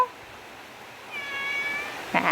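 A cat nearby gives one drawn-out meow in reply, rising and falling, followed by a short sharper meow at the end over quiet room background.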